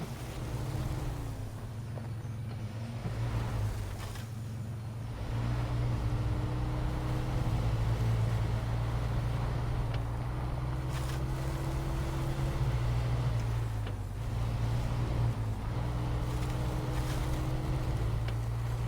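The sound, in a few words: truck engine driving in the video game SnowRunner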